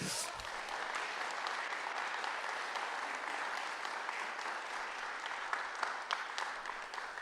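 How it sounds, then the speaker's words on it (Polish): A crowd at a political election event applauds steadily, with dense, even clapping that holds at a moderate level the whole way through. "Brawa dla niej."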